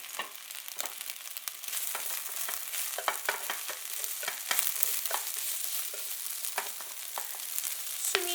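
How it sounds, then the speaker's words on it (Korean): Chives and salt are stir-fried in a wok. Steady close sizzling runs throughout, broken by repeated scraping strokes of the spatula and no talk. "소금 3분의 1 정도 넣어주시고 후부추 잎을 같이 넣어서 볶아주세요"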